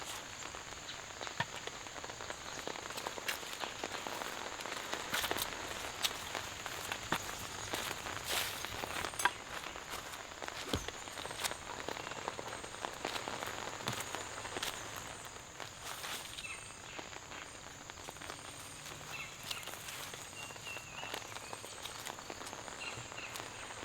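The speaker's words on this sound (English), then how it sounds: "Here comes the rain, everybody." Light rain falls around an off-grid cabin, a faint, even patter and hiss that continues without pause for the whole stretch.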